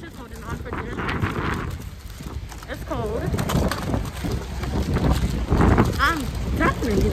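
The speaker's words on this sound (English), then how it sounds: "it's windy as hell" Strong outdoor wind buffets the microphone in a steady, loud rumble, with a person talking over it throughout.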